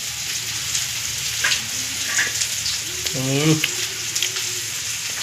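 Steady crackling sizzle of fish-roe fritters frying in hot oil, close and continuous, with a brief voice and light clinks over it.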